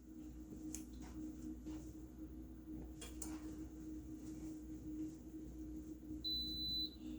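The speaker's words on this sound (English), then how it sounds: "It beeps to tell you that it started." An Instant Pot electric pressure cooker gives a single sharp electronic beep near the end as it finishes building pressure, over a steady low hum and faint background noise.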